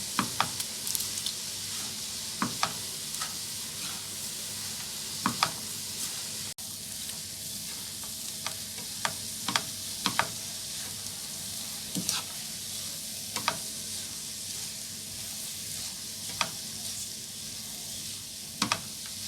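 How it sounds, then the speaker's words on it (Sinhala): Chicken fried rice is stirred in a pan over low heat: a steady soft sizzle runs throughout, broken by regular scraping and tossing strokes from the spatula. "මද ගින්දරේ හොඳින් මේ කලවම් කරගන්න."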